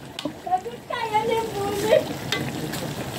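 Laing, taro leaves, cooking in a pan in Pampanga, giving a steady close sizzle with stirring and some liquid bubbling, while a voice talks briefly.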